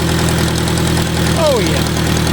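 An old Ford 660 tractor engine with carburetor trouble turns over and runs with a steady, close, throbbing idle, while a voice briefly speaks over it.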